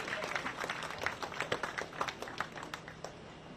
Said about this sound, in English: Please give a big round of applause for North Dakota Governor Doug Burgum.